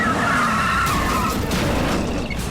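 An old car skids to a stop as it pulls in to park, a loud, continuous rough tire scrub and rumble lasting the whole moment, close by and with no talking.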